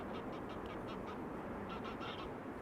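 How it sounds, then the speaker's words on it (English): Geese calling overhead near Amsterdam Schiphol Airport, a series of short repeated honks over a steady loud roar of airport and engine noise, no talk. "those geese now flying"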